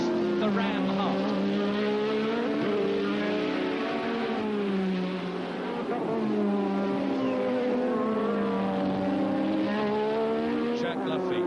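Formula One engines scream past on track as Jacques Laffite's blue Ligier overtakes a RAM Hart car. The engine notes rise and fall in pitch throughout, with a commentator talking continuously over them.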